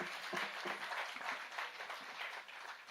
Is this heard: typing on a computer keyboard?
no